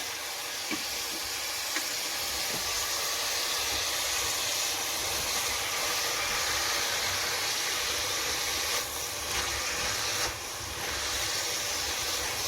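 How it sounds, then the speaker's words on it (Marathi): Carrots sauté for carrot halwa over a high flame, giving a loud, continuous broadband hiss and sizzle with faint occasional knocks, steady throughout. "फ्लेम एकदम हाय ठेवायची आहे आणि हाय फ्लेमवरती हे सर्व गाजर आपण परतून घेऊयात"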